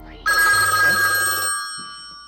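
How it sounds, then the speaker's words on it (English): A loud electronic telephone bell rings continuously for over a second, then cuts off, leaving a faint fading tail. "to react to this phone ringing"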